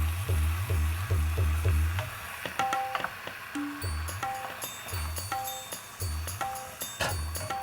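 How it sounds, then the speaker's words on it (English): Minced beef browning in a pan, a steady close sizzle with occasional stirring scrapes and small clatters, no talking over it. "you want to kind of brown the mincemeat"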